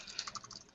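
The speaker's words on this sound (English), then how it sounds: "I'm having trouble typing" Rapid, light clicking of keys on a computer keyboard, a brief close-up burst of typing with no voices.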